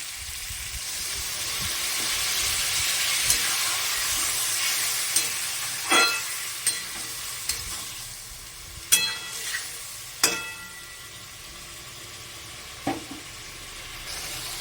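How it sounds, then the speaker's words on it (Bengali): Spice paste with turmeric fries in a pan for a Bengali small-fish curry, holding a steady hiss of sizzling oil, with a run of sharp spatula knocks and scrapes as it is stirred. "এবার আস্তে আস্তে মশলাটাকে আমি কষাবো"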